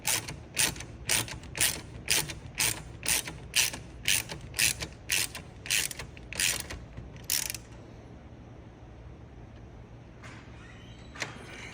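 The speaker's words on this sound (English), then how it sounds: "Using your 12mm, you hold your lock nut and tighten your 10mm bolt all the way through." A ratcheting wrench clicks in about fifteen rapid, evenly spaced bursts while tightening a 10mm bolt against a 12mm lock nut on a motorcycle carburetor, close and crisp, then a quieter pause with a couple of faint final clicks.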